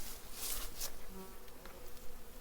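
Honey bees on a hive frame buzz steadily up close, a dense droning hum with occasional individual bees whizzing past.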